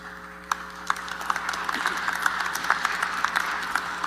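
Crowd applause at an Economic Club of New York speech builds into scattered clapping, sparse sharp claps at first that thicken into a steady patter of many hands in a large room.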